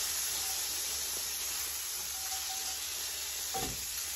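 Mushrooms and onions sizzling in a pan with rum sauce, a steady close hiss with a faint tonal whine above it and a brief scrape or stir near the end, no talking.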